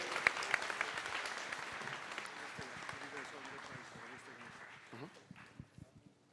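Sustained applause from an audience at an award ceremony, steady clapping that gradually thins out toward the end, with a few voices mixed in.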